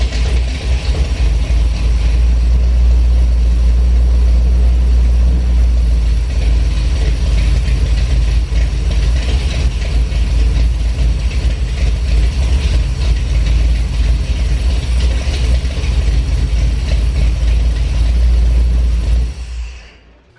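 Chevrolet K30 truck engine on a trail build running steadily after startup, a loud, close, continuous mechanical rumble with clattering that cuts off abruptly near the end.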